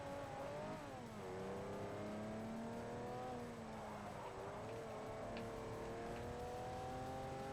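Race car engine in the video game Forza Motorsport 4, a steady high-pitched drone that dips briefly as the throttle is lifted, then climbs and holds again under acceleration, fairly faint.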